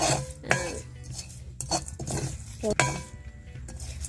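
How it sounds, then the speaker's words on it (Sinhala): A utensil scrapes and clinks against a pan in a few irregular strokes as grated coconut is stirred while frying, with a soft low background hum throughout. "පොල් ටිකත් හොඳින් බෙද ගන්න ඕන"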